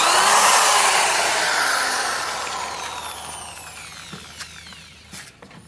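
Yasuka wall drill with a 12 mm bit running at very high RPM, a loud, steady high-pitched whine that slowly winds down and fades as it spins to a stop, with faint clicks near the end.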